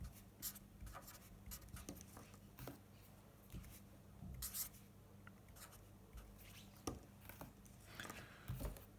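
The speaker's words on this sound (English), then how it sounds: "So let's write those down." Pen writing chemical formulae for aluminium oxide on paper: soft, close scratching strokes and taps in an irregular rhythm, faint and continuous throughout.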